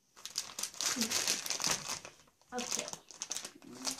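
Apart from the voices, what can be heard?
paper crinkling while unpacking Kinetic Sand kit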